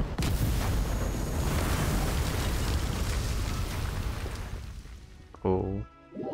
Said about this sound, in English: Was that an explosion just now?